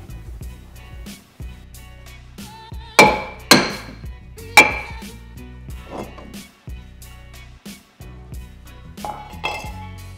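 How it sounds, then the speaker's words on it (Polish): Metallic taps from a small hammer on a car's drum brake drum during a DIY brake repair: a few sharp, ringing strikes close by, irregularly spaced, over a low background hum. "I obstukujemy bęben."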